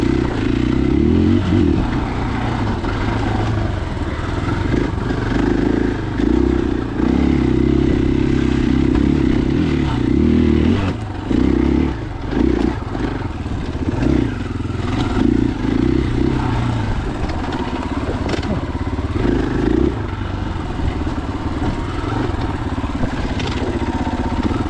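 A 2021 KTM 500EXCF dirt bike ridden along fresh singletrack at Johns Peak OHV, its engine loud and close, revving and dropping continuously over bumps, with rattles and scrapes mixed into the constant roar.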